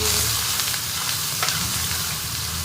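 Sliced onion sautéing in hot oil in a pan, a steady close sizzle with faint clinks of stirring running throughout the whole stretch.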